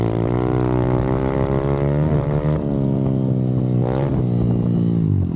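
Honda CRF110 dirt bike with an FMF exhaust revving hard on a track, a loud, close, continuous engine note with the pitch rising and falling through several rev swells and gear changes.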